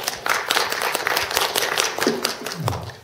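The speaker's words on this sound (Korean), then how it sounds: "여러분 박수 한번 더 부탁드립니다." Audience at a 3D/4K camera workshop presentation gives a short burst of scattered clapping, with a voice speaking over it.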